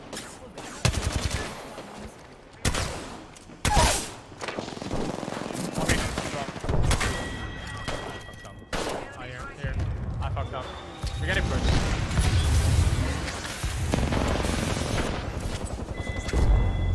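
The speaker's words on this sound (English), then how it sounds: "I'm taking shots." Apex Legends firefight with bursts of automatic weapon fire and sharp single shots, loud and irregular over many seconds, mixed with in-game effects while players talk over it.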